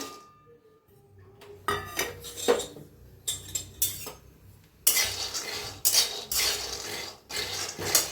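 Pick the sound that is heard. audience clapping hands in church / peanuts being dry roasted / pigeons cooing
peanuts being dry roasted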